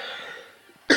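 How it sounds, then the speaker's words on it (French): A single sharp cough bursts out at the end of a short, quiet stretch of faint room noise, loud and close. "Je tousse. Je suis désolé si je tousse dans cette vidéo."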